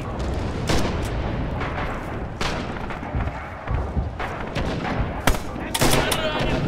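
Gunfire fills a Red Orchestra 2 battle on Mamayev Kurgan, with repeated loud shots and bursts from a machine gun position, dense and close, over constant battlefield noise and distant firing.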